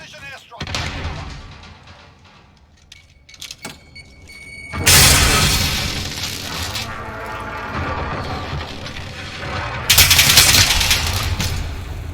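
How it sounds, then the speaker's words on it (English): Precision airstrike explosions in Call of Duty, heavy booming blasts that swell and roll on for several seconds, coming in two big waves after scattered earlier gunfire, with a game voice briefly heard. "Enemy precision airstrike. Take cover."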